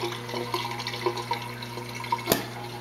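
Water trickling and dripping inside a homemade Rubbermaid tub aquarium sump with its cover fitted, a soft steady flow with scattered drips over a low pump hum, fairly quiet.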